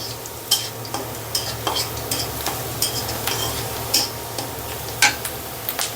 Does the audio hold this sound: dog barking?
no